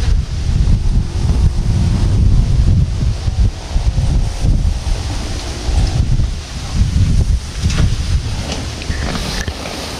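Strong wind buffets a microphone outdoors while people work on a vegetable tent, producing loud continuous low rumbling gusts that swell and ease throughout.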